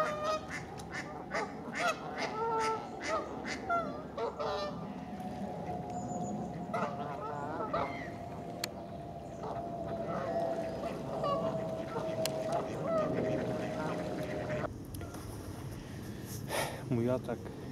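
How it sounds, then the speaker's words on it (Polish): A crowd of geese honks and squabbles noisily, calls overlapping constantly over a murmuring background for a long stretch. "Gęsi zaczęły walczyć między sobą,"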